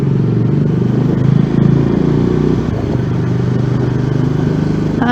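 A KTM Adventure 390 or Bajaj Dominar 400 motorcycle engine runs steadily at close range, a loud continuous low rumble with small swells of revving throughout.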